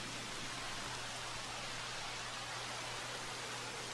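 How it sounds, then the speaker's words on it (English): Rain falls steadily in Jurassic World Evolution, a constant dense hiss with a low hum beneath it, even and uninterrupted throughout. "Now it's raining."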